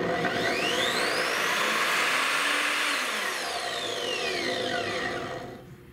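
An Evolution 10-inch miter saw's motor winds up gradually from a low hum to a loud, high whine instead of starting instantly, holds there, then cuts off and drops away near the end, with no talking.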